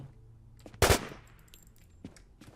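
Gunfire in the online zombie shooter WarZ: one loud, sharp burst of shots up close, followed by a few fainter scattered pops and quiet background noise.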